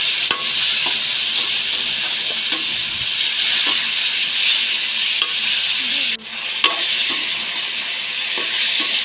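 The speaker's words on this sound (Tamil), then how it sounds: "இப்போ இதில் தக்காளி போட்டுக்கலாம்" A pan of sautéed ingredients for a spicy okra kuzhambu sizzles loudly and steadily as tomatoes go in, a continuous close hiss with occasional light clicks of a spoon against the pan.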